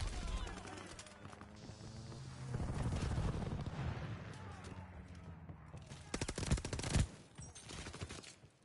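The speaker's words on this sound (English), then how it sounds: "Enemies called a strafing run." Aircraft strafing run gunfire in a video game, a dense rolling rattle of distant rapid fire and rumbling booms, building midway and cracking sharply near the end, with a voice talking over it.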